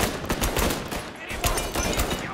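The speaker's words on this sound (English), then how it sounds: "I missed all my shots there." Gunshots in the video game Mafia: Definitive Edition: a loud, close string of sharp, irregularly spaced reports with little pause between them.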